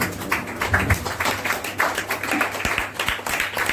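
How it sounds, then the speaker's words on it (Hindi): A church congregation claps together at a meeting in Amritsar, a dense irregular patter of hands filling the room at steady loudness for several seconds. "महिमा के लिए एक बार फिर से प्रभु को तालियां बजाएंगे।"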